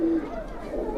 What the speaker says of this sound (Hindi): तो भाइयों ये हैं अनिल भाई के कुछ कबूतर जो कि लाल नफ्ते हैं।